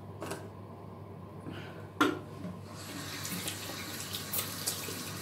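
Tap water runs into a sink while a face mask is rinsed off hands indoors, a steady close rushing hiss that swells after a brief clunk and continues to the end, with no talking.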